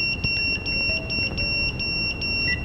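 Repeated short electronic beeps from a Mikrokopter quadcopter signalling receiver signal loss, a steady regular pattern of high pips about every quarter second over a low background hum.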